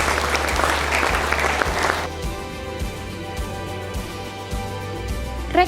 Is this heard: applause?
yes